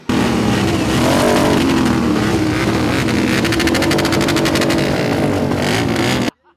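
A loud motorcycle engine roars and revs continuously for several seconds, close by, with no voices, then cuts off abruptly, at a loudest-motorcycle contest during a festival held at a ski stadium in Sosnogorsk.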